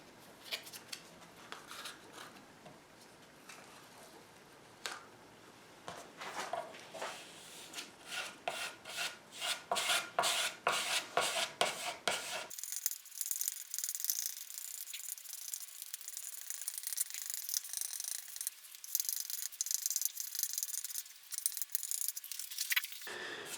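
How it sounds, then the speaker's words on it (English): Water-based wood filler is rubbed by hand into the open grain of an SG junior style guitar body, giving a steady close rasping scrub with rhythmic strokes that turns brighter and hissier halfway through. "I'm going to use some water-based wood filler to fill the grain"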